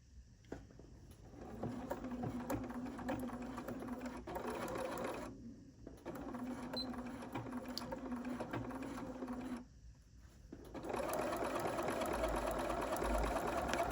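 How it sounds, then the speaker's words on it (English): A sewing machine stitches quilt pieces together in steady mechanical runs, humming and whirring in two bursts with short pauses between and a louder stretch at the end, close and clear with no talking. "since we're sewing all the pieces together, and I'm going to back stitch"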